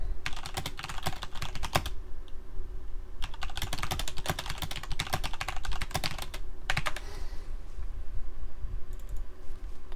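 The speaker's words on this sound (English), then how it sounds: "You can probably hear me typing, eh?" Typing on a computer keyboard, rapid bursts of close clicking keystrokes separated by short pauses, continuing steadily with no voices.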